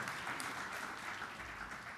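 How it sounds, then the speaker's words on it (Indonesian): A church congregation claps in sustained applause during a sermon, a soft, even patter of many hands heard at a distance. "Yang mau tepuk tangan yang meriah bagi Tuhan Yesus?"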